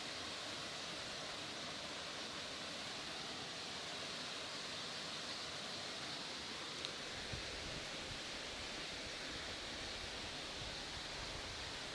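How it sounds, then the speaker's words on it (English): Steady, faint broadband rush of a village waterfall heard from a distance, a constant even hiss with no pauses and no voices. "I hope you can see the waterfall."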